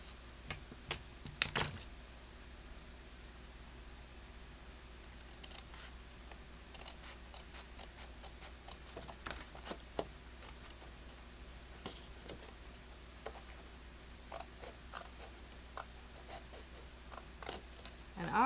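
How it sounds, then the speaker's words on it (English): A sheet of 12x12 craft paper is cut along its score line with small, quiet snips and taps scattered irregularly across a hushed room. "And I always cut the whole score line out."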